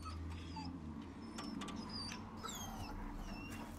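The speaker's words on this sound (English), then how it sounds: "Oh, it's the dog." A dog in Resident Evil 4 Remake gives several soft, high whimpers and whines over a low steady game ambience.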